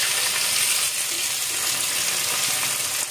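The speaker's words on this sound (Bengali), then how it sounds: "তেলের পর পেঁয়াজ দিয়ে দেবো" Chopped onions fry in hot oil in a pan for chicken biryani, giving a loud, continuous sizzle that stays steady from start to finish with no talking.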